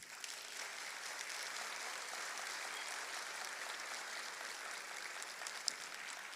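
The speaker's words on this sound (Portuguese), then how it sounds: "Uma salva de palmas." Faint, distant audience applause rolls on evenly in a lecture hall at a Brazilian flat-earth conference as the next speaker is called to the stage, a soft continuous patter with one sharper clap near the end.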